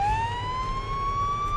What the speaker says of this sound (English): I can't get out of my car when my siren's on.